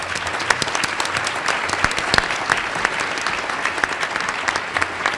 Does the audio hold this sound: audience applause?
yes